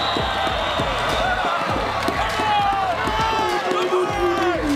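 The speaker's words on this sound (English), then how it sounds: "Man, this crowd is electric right now." Crowd cheers loudly during a professional ultimate frisbee game between Indianapolis AlleyCats and Toronto Rush, a continuous roar with rhythmic thumping footfalls and an announcer's voice talking over it.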